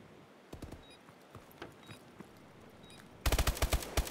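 Video game gunfire in a kill cam replay from a competitive 6v6 scrim match: a few scattered shots, then a loud rapid burst of automatic fire near the end.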